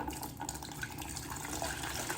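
Liquid poured through a nut bag strainer while making homemade dog food, a continuous close splashing trickle of fluid running steadily through cloth for a couple of seconds.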